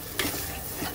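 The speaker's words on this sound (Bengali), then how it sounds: "ঠিক এই সময়ে আমি দিয়ে দেব ঝোলের জন্য জল" Water is poured into a sizzling fried spice base for the gravy of a shing fish curry with bottle gourd greens. A brief hissing burst rises over steady close frying noise.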